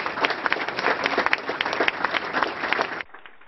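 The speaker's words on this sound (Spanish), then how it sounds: "ciudadanos quienes aplaudieron el paso del féretro." Dense, steady applause from a crowd of relatives, friends, town hall workers and citizens as a funeral coffin passes, loud and continuous for about three seconds before cutting off sharply.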